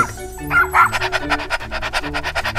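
A video game dog gives a quick run of barks and yips followed by rhythmic panting, loud and close, with no talking.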